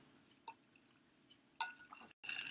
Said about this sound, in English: Hang on, I need a sip of water.